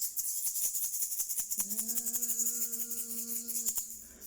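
An egg shaker maraca played to imitate a buzzing bee gives a quick, steady rhythmic rattle throughout, with a sustained buzzing tone joining in the middle before it stops.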